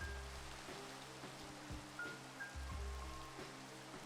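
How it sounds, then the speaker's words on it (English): Rain falls in the Minecraft video game, a faint, steady patter with soft low rhythmic bumps and a few brief tones underneath, with no talk. "Is the rain killing my frame rate?"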